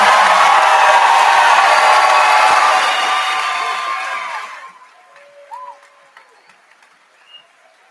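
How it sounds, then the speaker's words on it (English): A large crowd at a high school graduation claps and cheers loudly for several seconds, then the applause fades away into near quiet with a few scattered sounds. "big round of applause for the class of 2025"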